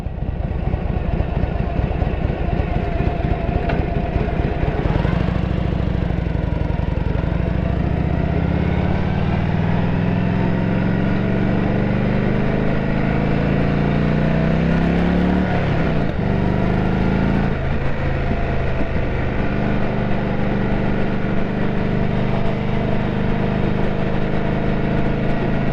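A Harley-Davidson motorcycle engine rumbles loud and close while being ridden, a continuous deep throb that rises and falls in pitch as it accelerates and shifts through gears.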